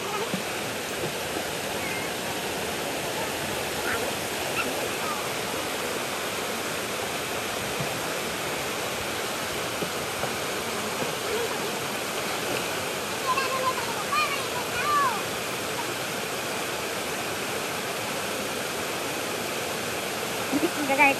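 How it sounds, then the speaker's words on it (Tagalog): Loud rushing water, probably a waterfall or fast stream where children want to bathe, forms a steady broadband roar through the whole stretch, close and continuous, with no clear break. "Sa ingay ng tubig."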